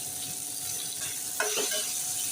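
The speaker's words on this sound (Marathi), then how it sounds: "परतून घेऊया" Tomato and coriander sauté in a pan for rice, a soft continuous sizzle with one brief scrape of stirring partway through.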